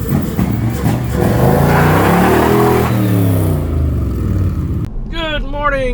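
A 2011 VW Golf TDI SportWagen diesel revs hard on a dyno, its loud engine tone climbing and then falling before cutting off sharply, followed by briefer rising and falling engine sweeps.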